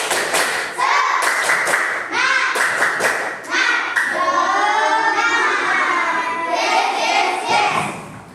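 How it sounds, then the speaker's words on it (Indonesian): Group performing a rhythmic spirit clap in a classroom or training session, sharp bursts of unison clapping in a patterned beat alternating with shouted chanting voices that lead the routine. "Tepuk semangat."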